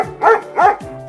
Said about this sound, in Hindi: शांत डॉगी, शांत हो जाओ।